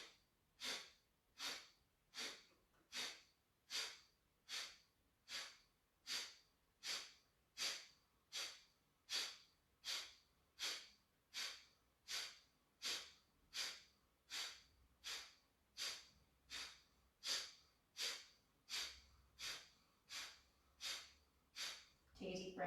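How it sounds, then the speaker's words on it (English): Deep, slow breathing during a yoga practice, a long, even series of about two dozen close inhales and exhales repeating at a steady rhythm, with a voice guiding softly at moments. "take a deep breath in. And a long breath out."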